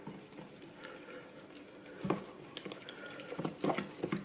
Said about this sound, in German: Das tun wir jetzt mal gut verrühren